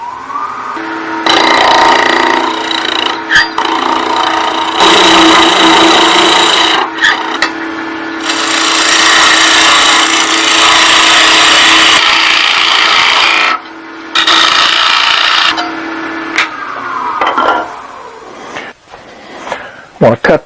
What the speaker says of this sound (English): I'm going to bring this down around with my skew chisel that I was using before